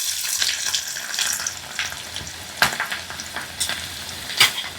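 Garlic and green chilli fry in hot oil in a pan, a steady crackling sizzle with sharper pops and stirring scrapes heard up close.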